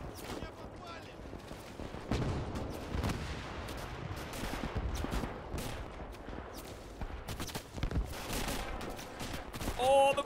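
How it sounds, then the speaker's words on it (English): Gunfire in the World War II video game Gates of Hell during a large river-crossing battle: dense overlapping rifle and machine gun shots, with impacts landing all around, near and far, crackling continuously for the whole stretch. "Oh, the bullets are landing everywhere."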